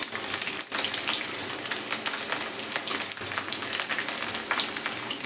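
Crushed and whole garlic cloves fry in hot oil, giving a continuous close crackle and sizzle with dense popping and a few sharper spits. No one speaks.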